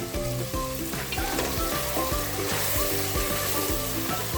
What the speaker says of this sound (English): Fry it on medium flame. Fry it till the oil leaves the sides.